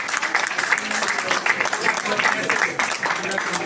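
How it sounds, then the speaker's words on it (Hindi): Audience clapping at a book launch ceremony, a loud, dense, continuous round of applause filling the room. "मैं वैसे चाहता हूँ आप अपनी तालियों का योगदान दें।"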